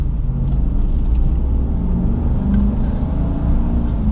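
A 2022 Ram 2500 Power Wagon pickup, running empty, picks up speed under light throttle. A steady, loud low engine rumble with road noise holds throughout, without sharp revving.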